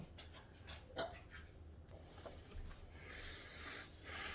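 A dog pants and snorts nearby, soft rhythmic breathy huffs with a brief whimper-like sound, fairly faint and alone without talking.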